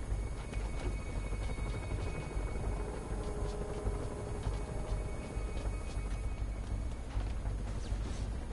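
A helicopter in the Spider-Man video game drones steadily as a low, rumbling whir that holds constant throughout, with faint clicks and game sounds on top.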